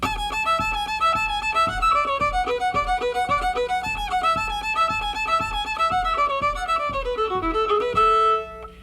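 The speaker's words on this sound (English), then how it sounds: "And if I play it fast, you'll hear it has really good drive." A fiddle plays the tune Devil's Dream at a fast pace with down bows landing on the beat. Running notes come in a steady, driving pulse and end on a long held tone.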